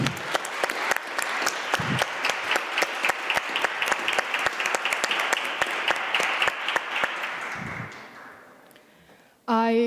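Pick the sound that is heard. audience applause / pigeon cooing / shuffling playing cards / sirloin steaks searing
audience applause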